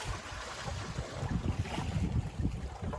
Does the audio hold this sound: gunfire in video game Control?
no